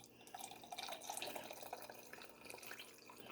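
Hot melted butter for ghee is poured from a griddle into a metal camp cup, giving a close, continuous liquid trickle with small drippy splashes throughout.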